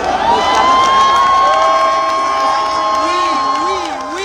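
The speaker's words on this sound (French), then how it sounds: "je vous prie d'applaudir le professeur" A crowd in Paris greets the arrival of Maurice Kamto with loud cheering and whooping. Shouting voices and sustained tones carry over scattered clapping, and the sound stays dense and close throughout.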